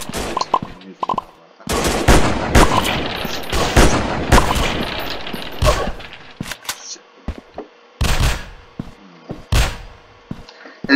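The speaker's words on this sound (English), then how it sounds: "This is my favorite gun, by the way." Video game gunfire from an automatic weapon, rapid bursts of loud shots in clusters separated by short pauses, with occasional thuds between volleys.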